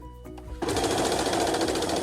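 Sewing machine stitching through the stuffed puffs of a biscuit quilt, starting after a brief pause into a steady, fast, continuous mechanical whir close by.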